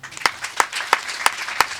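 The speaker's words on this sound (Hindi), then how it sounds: "एक दूसरे के लिए तालियां बजाएं" An audience at a church New Year sermon claps for one another in a loose, steady rhythm, with sharp claps landing roughly three times a second over a softer patter.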